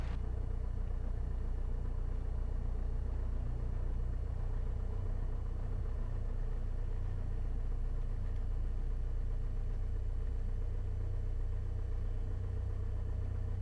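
A Piper Cherokee light airplane engine drones steadily at low revs, a constant deep rumble with no pauses or talking.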